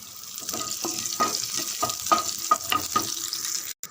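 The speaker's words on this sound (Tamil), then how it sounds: "தாளிப்பு பொருள் கடுகு, உளுத்தம்பருப்பு, கடலைப்பருப்பு நல்லா பொரியட்டு." Mustard seeds, urad dal and chana dal sizzling in hot oil, a dense crackle with sharp pops and spits repeating close up, with no voices over it.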